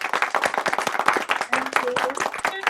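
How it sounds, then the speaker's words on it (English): Online meeting participants applaud together, a dense patter of many hands clapping steadily for a few seconds, with faint voices mixed in. "Susanna could hear an applause."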